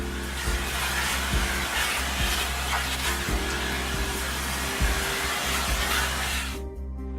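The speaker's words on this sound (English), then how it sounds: "Finally, you also vacuum the boots before entering the first stage of the airlock." A vacuum cleaner running steadily in a decontamination area while boots are cleaned before an airlock, a loud constant whine with a low mains-like hum and occasional knocks, cutting off at the end.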